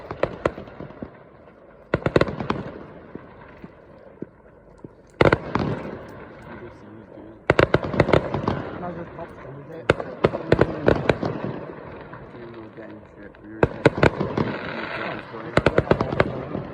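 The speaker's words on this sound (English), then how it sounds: "We were just walking by and saw some people setting off fireworks." Fireworks set off by people on Hjalsk Independence Day crackle and bang in sharp bursts and rapid volleys, some loud and close, with a continuous background murmur between the salvos.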